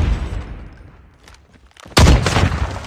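Gunfire in the Call of Duty video game: a loud, broadband burst of shots opens the clip, fades into sparse, quieter pops, then a sudden sharp blast of dense firing returns near the end.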